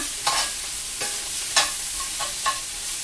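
Broccoli spigarello greens crackle and hiss in a hot pan, with a few distinct stirring scrapes spaced through a steady close sizzle, no voices.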